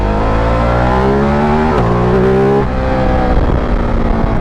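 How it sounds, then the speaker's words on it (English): A Ducati Multistrada 950S motorcycle engine revs loudly and close, its harmonic tone rising and dropping with throttle blips, a brief break and rougher crackling overrun near the end. "The backfire, the pops and crackles, even more, man."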